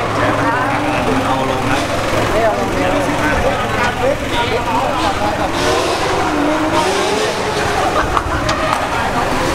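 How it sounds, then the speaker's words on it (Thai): Cars practise drifting at the Khlong 5 track, heard as a continuous loud roar of revving engines with tire noise, while someone talks over it throughout. "ข้างหลังก็มีการซ้อม ดริฟต์กันเกิดขึ้นครับ"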